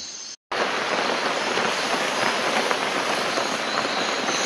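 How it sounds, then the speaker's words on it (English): Heavy rain pours down on a Costa Rican rainforest at night, drumming on a shelter roof as a dense, steady roar that begins abruptly after a brief moment of silence and then holds loud and unbroken. "it's raining pretty heavily, worse than last night"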